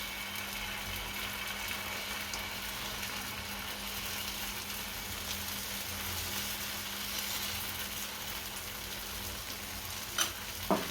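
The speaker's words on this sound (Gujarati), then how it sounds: "આપણું તેલ ગરમ થઈ ગયું છે, આ બેટર નાખશું। આમાં પાથરી દઈશું।" Potato chilla batter spread into hot oil in a pan, frying with a steady soft sizzle and crackle throughout, near and moderately quiet, with a couple of brief clatters near the end.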